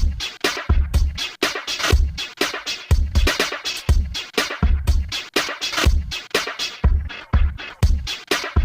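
An electronic music loop built from a sampled drum kit with some sounds reversed, its punchy kicks and crisp hits repeating in a steady, busy rhythm, loud and alone with no voices.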